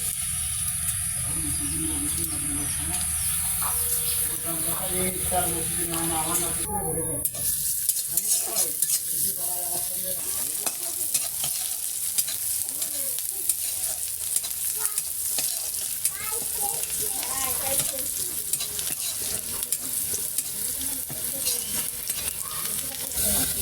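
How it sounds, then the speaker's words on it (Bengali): Chopped onion and garlic fry in mustard oil in a pan, a loud, steady sizzle running throughout with frequent stirring scrapes, close and without talk. "পেঁয়াজ রসুন ভালো করে ভেজে নিয়েছি।"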